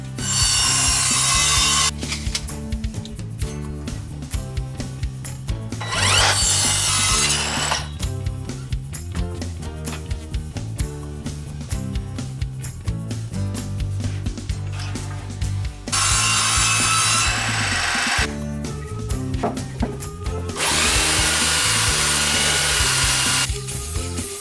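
Recycled timber is sawn into workbench legs, with long loud stretches of rough rasping cutting broken by brief pauses and shifts in the stroke, all close and continuous.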